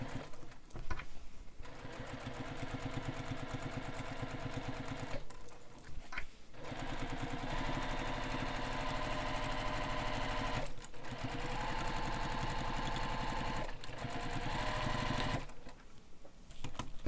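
A sewing machine top stitches along the bottom edge of a bag's slip pocket, running in long steady bursts separated by several short pauses, close and clear with no talking.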